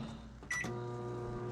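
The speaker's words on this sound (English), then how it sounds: "So I use a microwave to heat mine up." A microwave oven heating plastic for laminated soft-plastic fishing lures hums steadily and faintly, with a short louder beep-like tone partway through.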